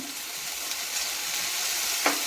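Ghee poured along the sides of a crispy jowar flour dosa sizzles in the pan, a steady close frying hiss with a brief brighter crackle near the end.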